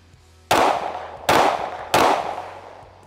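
Three sharp pistol shots from a Springfield Armory Echelon fired at a target 30 feet away, loud and close, spaced unevenly with short decaying tails between them.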